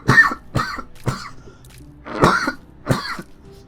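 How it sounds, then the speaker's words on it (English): A person coughs in a rapid series of five harsh, raspy bursts with a throat-clearing quality and brief pauses between them, close and loud with no talking. "This cough is, yeah, words, they don't come to me."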